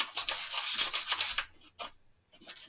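Quick, close rasping strokes of sandpaper rubbing a 3D-printed generator rotor part, a short burst of scratchy friction that stops abruptly with a pause.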